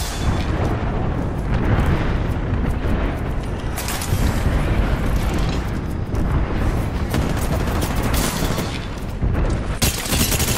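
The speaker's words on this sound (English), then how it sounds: "We got an airstrike on us." Airstrike explosions in the Apex Legends battle royale game: dense, continuous loud blasts and crackling bursts rolling one after another, with sharper hits near four and ten seconds, filling the whole stretch.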